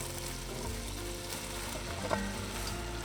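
Red cabbage and onions frying in bacon fat in a Dutch oven over medium heat, giving a steady, close sizzle with soft crackle and one brief stir or clink near the middle, with no talking.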